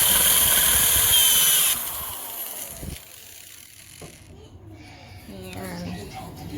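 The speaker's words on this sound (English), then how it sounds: "I'm just screwing them down right in the middle into my pre-drilled holes here." A drill drives screws into pre-drilled holes in the wood of a raised garden bed, starting with a loud, steady whir that drops off after a couple of seconds into quieter rattling and handling noise.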